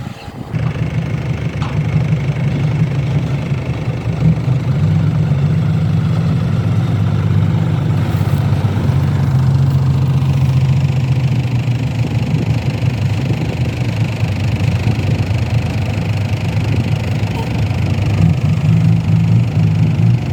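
Kobelco SK200 Super X excavator engine running steadily close by, a loud low diesel rumble with a slight rise in revs partway through, no voices.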